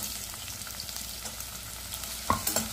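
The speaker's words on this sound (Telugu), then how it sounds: "సో ఇప్పుడు ఆ ఆకు వేగాక ఆనియన్స్ వేస్తున్నాను నేను." Chopped onions frying in oil in a pan for masala vegetable pulao, a low steady sizzle with a few louder stirring clinks near the end, no voices.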